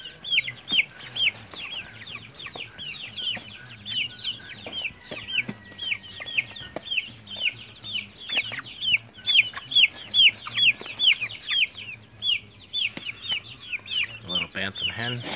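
Silkie bantam hens cluck in quick, busy bursts close by, several birds overlapping in a choppy rhythm over a low background murmur.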